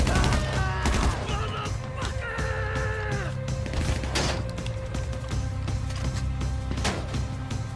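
Rapid gunfire bursts in the online video game GTA V, with loud repeated shots and crashes packed densely through the scene amid other game effects.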